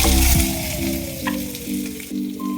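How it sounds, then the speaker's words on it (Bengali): Chopped onion and garlic sizzling loudly in hot oil with whole garam masala, a dense close fry with tonal hums and a few scraping stirs, no talking. "এবার এখানে কেটে রাখা পেঁয়াজ, রসুন এগুলো দিয়ে দেবো"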